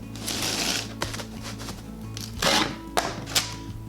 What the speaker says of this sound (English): take the box and line it up this cardboard. And then I'll just go ahead and I'll cut around the rest